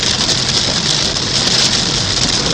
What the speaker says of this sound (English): We're half into the mile and a half of rain.